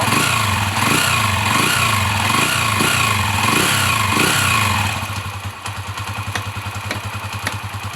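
A motorcycle engine idles steadily after a field coil replacement, its loud rhythmic chugging pulsing at first, then settling into a quicker, slightly lighter putter.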